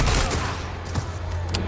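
Gunfire from a weapon in Resident Evil 4, a dense burst of shots over a steady low game rumble, with a few sharper reports standing out near the end.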